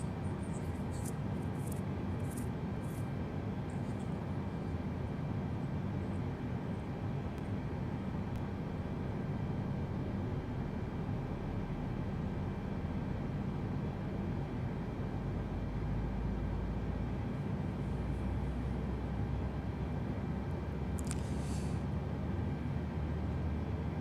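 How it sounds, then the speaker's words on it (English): Engine number one of a heavy jet airliner spools up after pushback at Jacksonville, giving a steady, loud, broadband roar with a constant drone and faint high whine near the end. "time to get these engines fired up"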